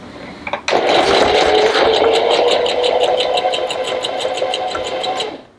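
A sewing machine stitching a label starts with a clunk, then runs at a steady, even rapid clatter for several seconds before stopping, loud and close with no talking.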